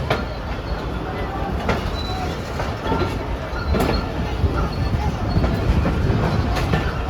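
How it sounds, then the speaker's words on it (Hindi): Pak Business Express passenger train running between Karachi and Lahore, a steady loud rumble of wheels and carriage with occasional sharp clicks and knocks, heard from on board in economy class. "तो तकरीबन 10:10 पर हमारी ट्रेन रवाना हो गई है"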